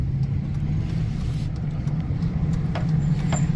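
A car passes at a lakeside resort lodge, its steady low engine rumble holding close throughout with a slight rise in intensity toward the end, no talking over it.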